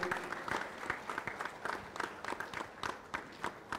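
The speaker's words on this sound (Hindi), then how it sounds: "जोरदार तालियों से जरा एक बार फिर इनकी हौसला अफजाई हो." Moderate applause from a press conference audience honouring five policemen, with individual claps audible in a quick uneven rhythm at a fairly steady level and no speech over it.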